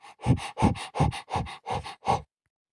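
A voice imitates a dog panting, breathing quickly through the mouth with the tongue out as in a children's breathing exercise. Seven short, even huffs come in a steady rhythm, close and clear, then stop.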